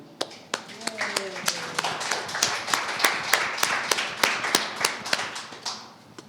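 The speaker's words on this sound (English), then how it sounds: "I definitely want to give a short round of applause thanking them" Conference audience at a DSW 2023 talk giving a short round of applause, a sparse run of distinct, separate hand claps at an irregular but steady pace, moderately close and fading at the end.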